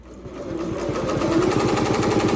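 A RICOMA embroidery machine sewing flat satin stitches gives a loud, close, rapid rhythmic chatter that holds steady and grows slightly louder over a couple of seconds, with no voices.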